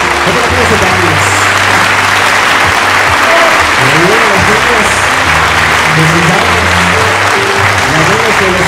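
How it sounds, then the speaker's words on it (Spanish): Wedding guests at a reception party clap loudly for the bridesmaids and escorts, dense close applause running throughout while music with a bass line plays and voices carry over it. "fuerte el aplauso para las damas y los chambelanes"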